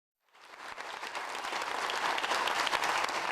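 Applause rises quickly from silence and builds into steady, dense clapping from a large crowd in Lae, Papua New Guinea, as a funding boost for a new Unitech mess is announced, continuing without a break.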